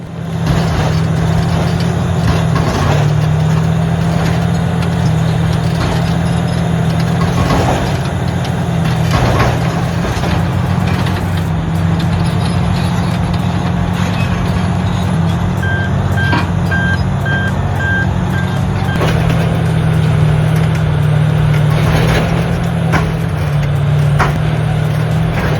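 A B11.800EN bulldozer with a Shantui SD16 engine moves earth, its loud, steady diesel drone running throughout with a brief reversing beep partway through, heavy machinery close by and no voices.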